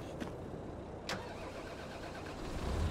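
A tractor engine in Farming Simulator 22 cranks and catches, then settles into a steady low rumble that grows slightly louder toward the end, with no voices.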